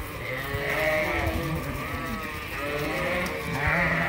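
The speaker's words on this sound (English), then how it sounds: "They're quite happy because we've been sorting sheep," A flock of Dorset and Suffolk sheep, stirred up after sorting, bleat over and over in overlapping calls, some close and some farther off, with no talking heard.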